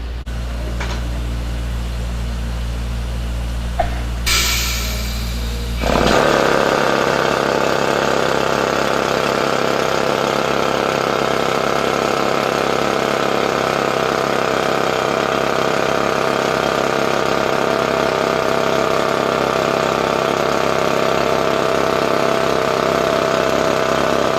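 A large drilling rig engine idles with a low rumble, then throttles up into a loud, steady, close roar that continues unbroken.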